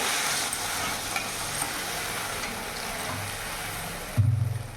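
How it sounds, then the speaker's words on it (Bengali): Tangra fish curry sizzling steadily in a pan with occasional stirring, then water poured in near the end, bringing a sudden heavier gush and bubbling surge. "এবার আমি জল দিয়ে দেবো পরিমাণ মতো।"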